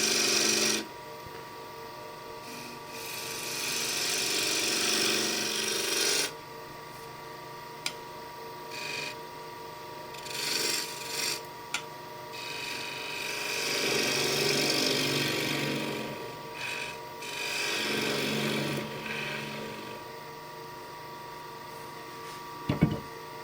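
Bowl being turned on a wood lathe with a 10mm spindle gouge, giving a steady rasping, scraping cut that swells and fades in long passes over a constant low machine hum, with brief pauses between cuts.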